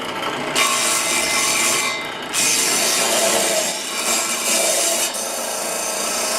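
Steady rough scraping of pumpkin against the coarse side of a grater, in repeated strokes with brief pauses, close and fairly loud.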